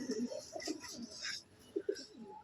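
A pigeon coos softly nearby, a few low rounded calls in short bursts, quiet and unaccompanied by talk.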